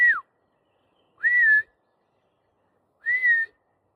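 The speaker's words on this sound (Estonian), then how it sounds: "Vaata, ma vilistan korraks." A person whistles three short rising-and-falling calls to lure an animal, evenly spaced about a second and a half apart with silence between, clear and close.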